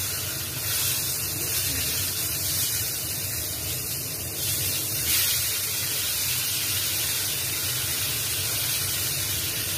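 Eggplant frying in a pan over lowered heat, a continuous close sizzling hiss that holds steady and fairly loud throughout, with no voices.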